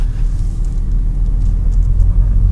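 A manual-transmission car pulls away in first gear, a steady low engine rumble with slight swelling as gas is applied, heard from inside the car with no talk.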